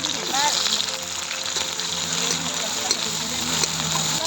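Onion and garlic fry in a pan at an outdoor family picnic, a steady loud sizzle and hiss filling the clip with occasional stirring knocks and voices nearby.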